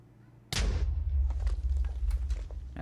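A wither explosion in Minecraft erupts in a single sudden loud boom, followed by a deep rumbling roar and scattered crackles that fade slowly.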